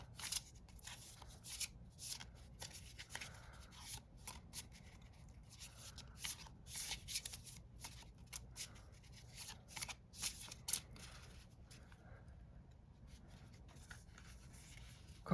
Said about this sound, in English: I have to do a little riffle shuffling